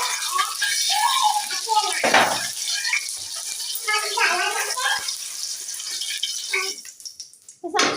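Water runs steadily as from a tap, with clattering kitchen sounds and someone talking over it.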